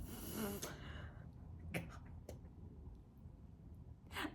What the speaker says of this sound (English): can't focus with him snoring.